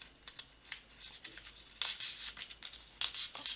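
Paper card being folded by hand for a handmade shirt-shaped greeting card, with quiet scratchy rubs and creases in short irregular strokes, a couple of louder crisp swipes near the end, no voices.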